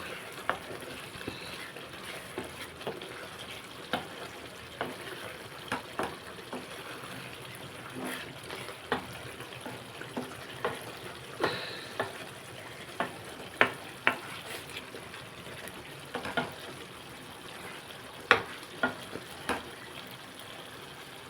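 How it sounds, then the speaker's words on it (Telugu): Fish and egg curry fries in a pan and gets stirred. A steady low sizzle runs throughout, with soft scraping strokes of the spoon coming at an irregular, unhurried pace. "ఒకసారి మనం కలిపేసుకుందాం"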